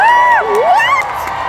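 A crowd at a FanX Salt Lake City 2023 convention panel cheers loudly, with high whoops and shrieks sliding up and down in pitch, close and intense before easing slightly.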